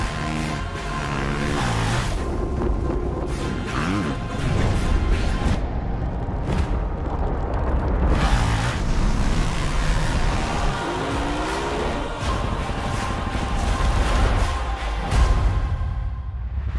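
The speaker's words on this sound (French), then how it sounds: "voici le moment motocross de la vidéo, avec des belles CRF en action." Honda CRF motocross bikes race past, engines revving and rising and falling in pitch. Several loud passes overlap continuously, with dips between bursts of throttle.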